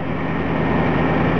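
A truck engine idles steadily with a deep, even low rumble through an exhaust patched with a homemade clamp repair, noticeably quieter now, close by and continuous with no talking.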